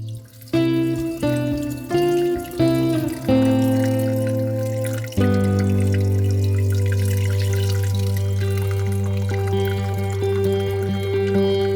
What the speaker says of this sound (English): I let it sit in the sink of cold water to help it cool down faster